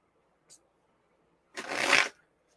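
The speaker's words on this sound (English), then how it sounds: "let's shuffle. Let's just shuffle." Tarot cards being shuffled in one brisk riffle lasting about half a second, close and fairly loud, after a quiet pause with a tiny tap at the start.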